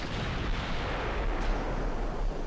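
Battleship turrets firing shells in Ultimate Admiral: Dreadnoughts, a dense rumbling barrage of heavy gun blasts that rolls on loud and continuous.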